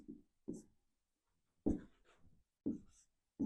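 Pen or chalk writing on a board during a maths lesson, several short separate scratchy strokes with silent gaps between them, close and clear, no talk.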